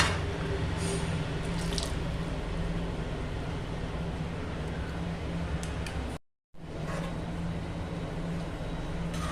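Thick first-press coconut milk pours into a curry with the heat switched off, giving a continuous soft liquid trickle that cuts out briefly before resuming.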